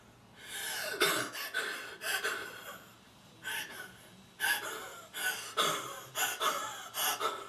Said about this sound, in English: Doing a lot of panting, and she could just pass out.